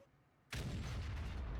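An E100 tank cannon fires in World of Tanks, a single loud, sudden boom after a quiet moment, followed by a sustained rumbling tail.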